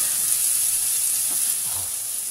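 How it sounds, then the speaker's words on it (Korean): Pork belly (samgyeopsal) sizzles on a Zaigle grill at home, a close, steady crackling hiss that continues evenly without any voices. "삼겹살 소리."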